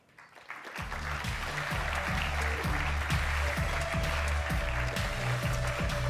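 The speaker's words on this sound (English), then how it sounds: "So please give her a big round of applause." An audience at a panel event on networks and social power breaks into applause for a panelist, a sudden swell of clapping that rises quickly and holds steady and loud, with a low rhythmic thumping beneath it.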